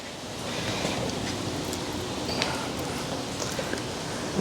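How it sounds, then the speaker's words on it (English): Broad, steady outdoor wind rushes across the microphone with a continuous noisy roar and slight gusting, no talking. "The good thing it's a little bit windy, so it feels a little cooler."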